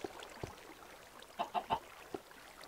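Chicken in the video game Minecraft giving a few soft, short clucks in a quick cluster, faint and close, with brief scattered blips around them.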